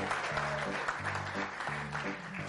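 An audience at a radio theatre performance applauds the cast, a dense, even wash of clapping that runs throughout beneath a low, steady tonal hum.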